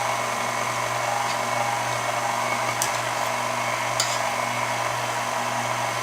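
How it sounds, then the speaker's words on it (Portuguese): Steady, even electric whine of a stand mixer running at minimum speed, mixing dry cupcake ingredients and flavour powders, with a constant motor hum, a faint tick or two and no voices. "O mínimo da batedeira e começo a misturar os secos."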